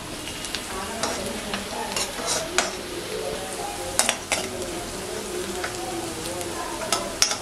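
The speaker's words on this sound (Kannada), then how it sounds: "ಒಂದು ಸ್ವಲ್ಪ ಫ್ರೈ ಆಗಬೇಕು ಈರುಳ್ಳಿ." Onions frying in a pan for a Marathi kaima amti, a continuous soft sizzle with a spoon stirring and clinking against the metal pan at irregular moments, close and alone without talk.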